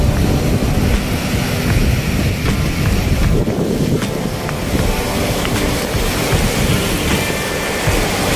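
Strong wind blows outdoors in Dubai, roaring loudly and continuously across the microphone with heavy low buffeting and no voices.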